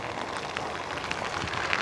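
Heavy typhoon rain pours steadily over a flooded mini farm, a dense, even hiss with no breaks.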